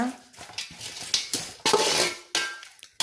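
A spoon scrapes and clinks against a pot while cinnamon and cloves are stirred into oil for Ambur-style country chicken dum biryani, close and loud, with a few sharp metallic knocks.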